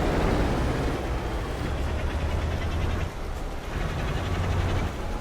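A Ford Cargo 2520 truck in a video game, its exhaust roaring in a steady, loud low drone while it drives down a winding mountain forest road.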